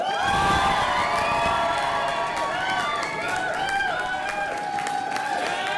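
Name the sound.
audience cheering and whooping at cabaret show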